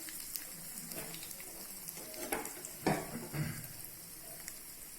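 Peanuts are fried in a pan for lemon rice, with a steady soft sizzle and occasional scraping stirs and light clatters nearby.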